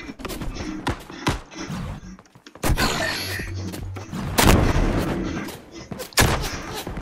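Video-game combat with loud gunshot bursts and heavy explosive thuds from a grenade, punctuated by sharp transients and brief pauses, with mechanical clunks in between.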